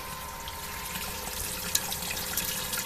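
Wort trickles and splashes in a steady, continuous flow during a homebrew mash in a Brewer's Edge Mash and Boil system, fairly close and without speech.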